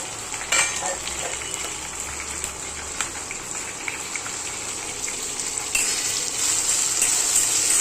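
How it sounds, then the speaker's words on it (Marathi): Onion sizzling steadily in a pan as it browns, a continuous bright hiss with occasional stirring scrapes, growing a little louder and crisper toward the end. "याच्यामध्ये कांदा चांगला ब्राऊन कलर येईपर्यंत फ्राय करायचा आहे"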